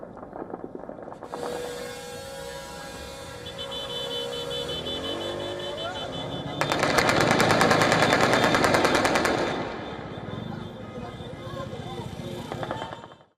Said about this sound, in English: In Beirut's southern suburbs, gunfire and fireworks welcomed the agreement.